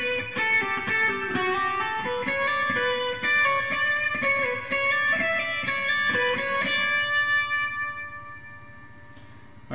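Guitar playing bar 22 of Pachelbel's Canon in D, a steady run of clear plucked notes ringing in close, even succession, with a final chord left to decay into quiet.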